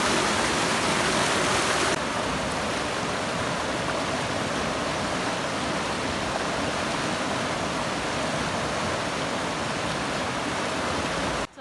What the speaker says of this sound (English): Look how fast that water is going.